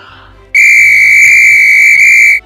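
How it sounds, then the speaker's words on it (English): A coach's or umpire's whistle gives one loud, shrill, sustained blast lasting about two seconds, following brief faint background noise. "A lot of times an ump or a coach will blow on the whistle to get everyone's attention"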